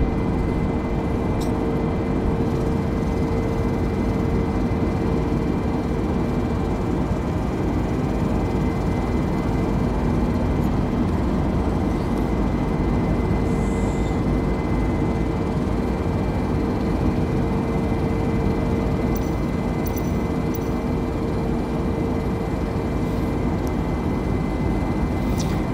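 The cabin of a Philippine Airlines Airbus A320neo climbing toward cruise altitude fills with a steady, loud low roar of engine and airflow noise and a faint constant hum. It runs unbroken throughout with no talk.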